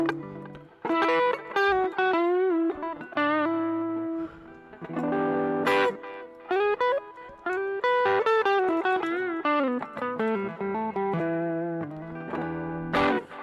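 Electric guitar on the neck pickup plays a short jazz lick, a run of clean sustained notes and chord stabs through an effects setup, heard alone without talk.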